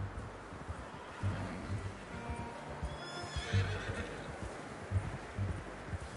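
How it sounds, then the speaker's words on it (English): In the video game Red Dead Redemption, a horse gives whinnying neighs mixed with soft clip-clop hoofbeats, all fairly faint and quiet against a light outdoor background. "How's that new horse?"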